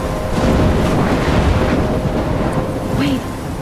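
A thunderstorm with a deep, continuous rumble of thunder and heavy rain hiss, loud and close, steady throughout with a brief swell near the end.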